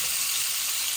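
Tilapia fish frying in hot oil, a steady loud hissing sizzle with no breaks and nobody talking.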